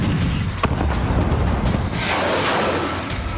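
Explosions from Israeli strikes on abandoned Syrian army weapons depots: a dense, loud wall of rumbling blasts and booming reports, with one sharp crack early on and continuous low-end roar throughout.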